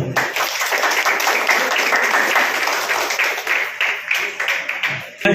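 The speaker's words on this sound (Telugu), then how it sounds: "ఒకసారి చప్పట్లు కొడదాం" A burst of audience clapping, fairly loud and sustained, fading slightly toward the end.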